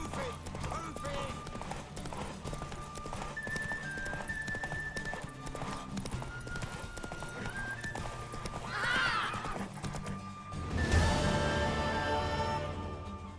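A mare in The Witcher 3 gallops with rhythmic clip-clop hoofbeats under game music, and a loud neigh or whinny breaks out partway through. Voices speak over the scene.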